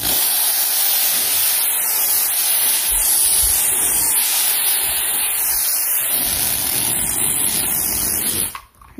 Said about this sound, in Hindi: रूम वगैरह क्लीन करने के बाद मैं तो ज़रूर स्प्रे करती हूँ रूम स्प्रे